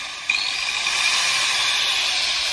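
A small 220-volt angle grinder switched on, a sharp click followed by a loud, steady high-pitched motor whine that holds constant and close.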